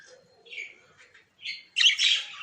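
A pair of crested parrots gives a few short, sharp chirps and squawks in quick succession, close by against a quiet background.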